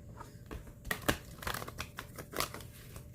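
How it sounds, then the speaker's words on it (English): A deck of tarot cards is shuffled by hand, giving quiet, irregular papery riffles and soft flicking taps in short bursts close by, with no talk. "All right, we'll shuffle one more time."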